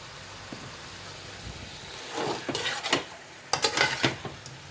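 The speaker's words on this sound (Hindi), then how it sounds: "अब शामिल करेंगे जी शिमला मिर्च" Chopped capsicum tipped into a cooking pan and stirred, starting as a faint background hiss and building into close scraping and clattering strokes that come in two uneven bursts.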